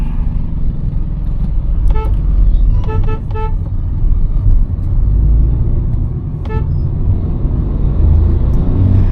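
A Hyundai i20 N Line car driving in traffic, with a loud, steady engine and road rumble from inside the cabin and a few short horn toots from nearby vehicles.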